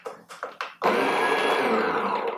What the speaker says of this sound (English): You can hear the burrs do not contact currently at this setting.